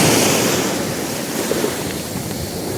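Waves break on a beach in Corsica in a broad, continuous roar of surf. Wind buffets the microphone, and no voices are heard.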